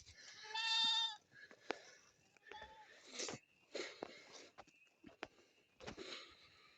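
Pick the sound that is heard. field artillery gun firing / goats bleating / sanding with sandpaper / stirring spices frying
goats bleating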